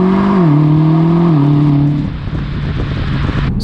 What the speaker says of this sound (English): it still is a really nice V8 grumble